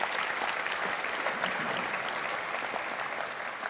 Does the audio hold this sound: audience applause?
yes